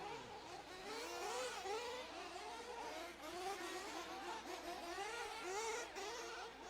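Video game racing trucks rev and shift, their engine notes repeatedly climbing and dropping in quick, whining sweeps, fairly quiet and continuous, with no talking.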